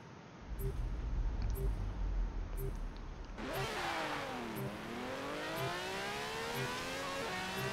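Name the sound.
Ferrari car driving downhill in Forza Horizon 4 video game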